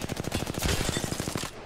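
Sustained automatic gunfire from a player in Apex Legends, a loud, close, rapid stream of evenly spaced shots for over a second before cutting off.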